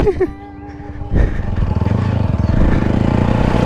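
A 4V motorcycle engine idles briefly, then revs up into a steady, rapid, loud pulsing roar close by, with a short clatter at the start.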